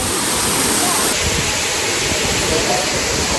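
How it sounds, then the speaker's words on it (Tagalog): River water rushes in a steady, dense broadband roar that stays loud and continuous throughout, with no voices breaking through. "That came from a river."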